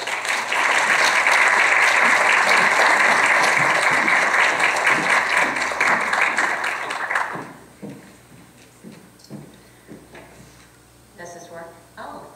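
An evening audience applauds loudly to welcome a speaker to the podium, a dense sustained clapping that lasts about seven seconds and then drops away as a person begins talking.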